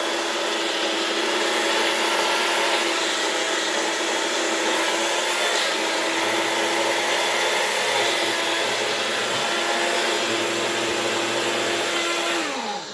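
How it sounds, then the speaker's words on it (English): A grinder pulverizes eggshells into powder for garden calcium, a loud steady motor whine holding one pitch for the whole stretch, dropping slightly near the end as the run finishes, with no talking over it. "Kind of right now, it's kind of almost done grinding."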